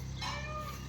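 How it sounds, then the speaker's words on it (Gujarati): A cat gives one drawn-out meow close by, over a steady low hum of background noise. "અરે જો બિલાડી"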